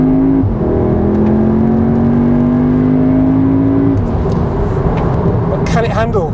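A 2022 VW Golf R or new Audi S3 pulls hard from a quick start: a loud, close engine note climbs steadily, then drops at a gear change and builds again, with a voice talking over it.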